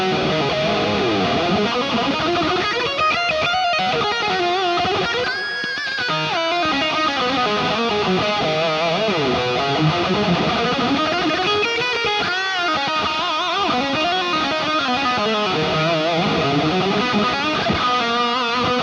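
An electric guitar runs through a HeadRush unit on the SLO amp model, with overdrive on, compressor off, a Marshall cabinet IR blend and a touch of delay and reverb. It plays a driven riff of sustained, gritty notes alone, with no talking.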